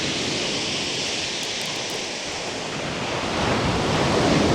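Waves surge and break on Chesil Beach, a steep shingle shore, in a loud continuous roar of surf mixed with wind buffeting the microphone, swelling slightly toward the end.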